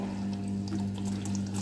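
Water pours steadily into a Sharp single-tub washing machine as its fill valve switches on automatically, a continuous close rushing flow over a low steady mains hum, with no voices.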